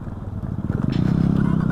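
A motorcycle engine starts and settles into a steady, close idle on a dusty mountain ride route to Kalinchowk, its low rhythmic thumping growing louder and more even over the short stretch.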